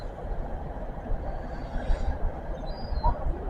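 A model railway train runs on a layout with a steady low rumble and faint rhythmic rolling clicks, close and continuous throughout.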